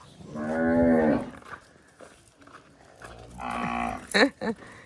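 Cows in a village cow shed, which has just been cleaned and where the cows have been bathed, give two loud, drawn-out moos, one near the start and another after a pause, followed by shorter low calls close by.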